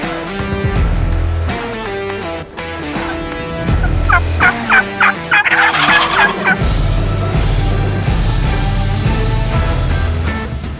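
A wild turkey gobbles during a spring hunt in the Idaho panhandle, a rapid, loud rattling burst in the middle of the clip heard over steady background music.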